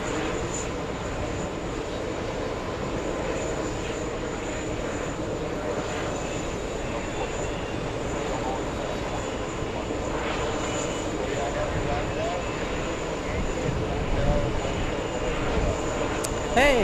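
Caribbean Airlines Flight 552, an airliner inbound from Kingston, Jamaica, at JFK airport, gives a steady, moderately loud engine rumble that swells near the end, with a voice talking over it.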